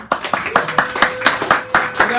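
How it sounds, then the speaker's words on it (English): Rhythmic clapping from a small audience at a cafe performance, about nine sharp, evenly spaced claps in unison over two seconds, close and loud. "Give him a round of applause."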